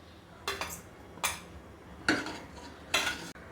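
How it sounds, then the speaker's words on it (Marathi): A spoon stirs dry fruits into sabudana kheer in a cooking pot, giving four separate scraping clinks against the pot at an unhurried pace over quiet room noise. "सर्व ड्रायफ्रूट्स टाकून मी मिक्स करून घेते"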